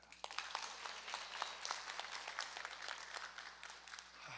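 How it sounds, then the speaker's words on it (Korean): Steady applause from a church prayer-meeting congregation, many hands clapping densely and evenly for several seconds before it fades out. "박수 한번 쳐줘요"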